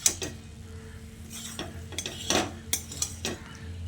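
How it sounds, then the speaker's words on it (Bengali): Gram flour being stirred into okra and potato in a pan, with repeated scraping and clinking of a spatula against the metal over a low sizzle, close and moderately loud. "তারপর বেসনটা দিয়ে ঢেঁড়স আলুর সঙ্গে খুব ভালো করে মিশিয়ে নিতে হবে"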